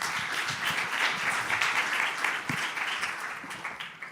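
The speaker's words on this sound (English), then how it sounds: "Please give Eduardo a big applause" An audience at the Copernicus C3S General Assembly applauds a speaker, dense steady clapping from a roomful of people that fades slightly at the end.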